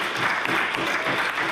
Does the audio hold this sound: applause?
yes